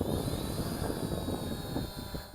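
ZLRC SG906 Max drone motors whine steadily with a high buzzing drone and rushing air, loud and close, during an automatic takeoff outdoors.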